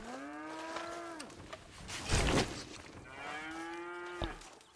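Two long, deep cow moos come from cattle in a stable in the video game Red Dead Redemption 2, separated by a burst of rustling noise, close and clear with no talk.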